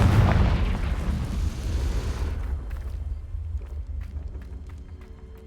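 A Confringo blasting spell goes off in Hogwarts Legacy, a loud booming explosion that rumbles and fades over several seconds, with a dull roar trailing into quieter crackles.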